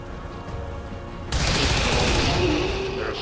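Soldiers' gunfire in XCOM 2: War of the Chosen, a sudden loud burst of shots after a low rumbling bed, then a sustained dense crackle of fire.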